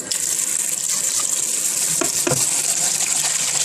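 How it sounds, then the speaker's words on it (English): Cold water runs from a kitchen tap in a steady, loud gush into a bowl of shrimps, with a few splashy knocks partway through as they are rinsed. "Turn on the cold water"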